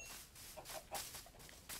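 Soft, scattered clucks from a chicken in a game, faint and brief, with a low digital background hum underneath.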